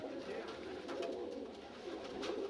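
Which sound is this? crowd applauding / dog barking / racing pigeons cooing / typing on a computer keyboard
racing pigeons cooing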